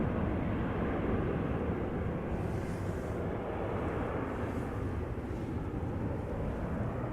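Embraer 190 jet departing Amsterdam Schiphol for Gdansk: a continuous broad engine roar at moderate distance, steady throughout with wind noise, no talk.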